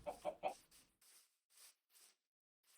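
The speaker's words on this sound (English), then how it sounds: "These are the cold biome chickens." Cold biome chickens in Minecraft cluck in a quick burst of close, clipped calls, followed by a few softer, spaced clucks.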